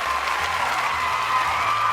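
Stream audience applause and cheering from a crowd, steady and continuous throughout, filling the whole clip at even loudness with no talk on top.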